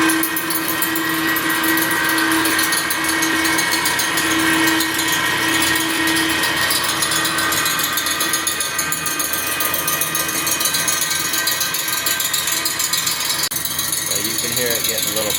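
An Allett CC348E reel mower has its reel spin ground, giving a continuous loud whirring, grinding drone with a steady pitched hum, running unbroken throughout, with a slight shift in texture toward the end.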